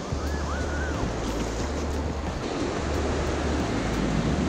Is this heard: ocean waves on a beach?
yes